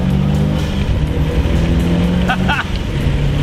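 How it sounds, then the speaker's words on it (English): A car on K-Sport Kontrol Pro Damper coilovers launches hard in first gear, its engine roaring loud and close throughout with a brief shout over it. "I'm in first gear and send."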